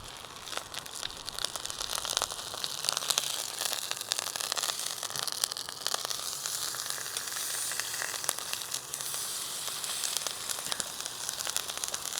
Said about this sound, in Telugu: జస్ట్ నార్మల్ ఆయిల్లో కుక్ చేసుకుంటున్నా చికెన్ని.